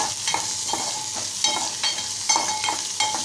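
Marathi-style red pumpkin vegetable mixture with onion and chilli being stirred and sautéed in hot oil, a steady broadband sizzle broken by repeated rhythmic scraping strokes of the spoon, close and fairly loud with no talking.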